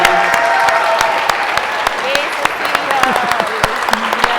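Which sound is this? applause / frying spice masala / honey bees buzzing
applause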